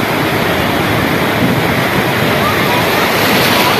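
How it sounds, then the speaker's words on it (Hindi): Sea waves break along a shore in a dense, continuous roar of surf, loud and close throughout, with wind rumble buffeting the microphone and no clear speech over it. "चेक करें जी लहरें कैसे आ रही हैं"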